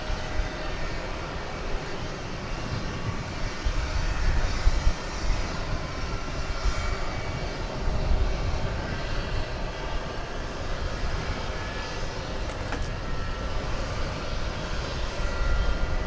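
A large cargo jet bound for Louisville takes off from runway 18 Left at DFW Airport, its engines a steady, broad roar that fills the scene without pause and swells slightly near the middle.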